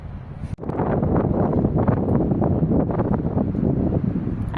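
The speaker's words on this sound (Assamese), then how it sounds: "ধুনীয়া হাৱা মাৰিছে" Wind blows outdoors on a mountain top in Uttarakhand. Strong, steady gusts buffet the microphone with a close, rough roar that stays loud after a brief dip near the start.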